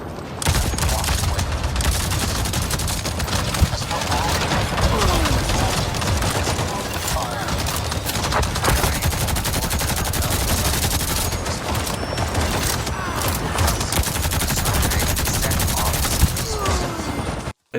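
Gunfire in the video game Avatar: Frontiers of Pandora, dense bursts of automatic weapon fire and scattered booms rattling on almost nonstop amid game effects.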